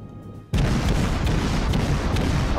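Warship guns in World of Warships open fire on the Otago with a sudden heavy boom, followed by a dense, continuous rumble of rapid salvos and blasts, loud and sustained.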